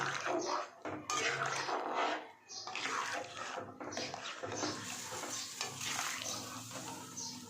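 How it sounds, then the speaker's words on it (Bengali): Egg being stirred into simmering chicken soup in a pot, a close, busy sloshing and bubbling with spoon movements, dense and continuous with brief dips. "ডিমটাকে সব কিছু পুরোটা দিয়ে এটাকে নাড়িয়ে নেব"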